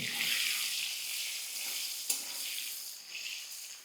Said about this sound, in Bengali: এবার এটা দিয়ে একটুখানি নাড়াচাড়া করব, বেশ লাল লাল করে এটা ভেজে নেব।